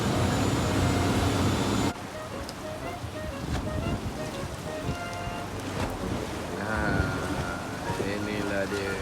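A boat engine drones steadily beneath rushing water and rain-like noise on a night fishing trip off Kemaman, with voices talking over it.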